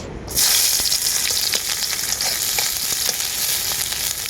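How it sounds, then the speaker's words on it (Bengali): Chopped onions sizzle loudly in hot oil in a wok, a steady bright hiss with scattered pops and the occasional scrape of stirring. "কড়াইয়ের মধ্যে দিয়ে দেব আমি কুচনো পেঁয়াজ"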